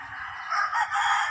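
A gamecock rooster from Sweater and Shelton Roundhead breeding stock crows once, a single clear, fairly close cock-a-doodle-doo lasting about a second.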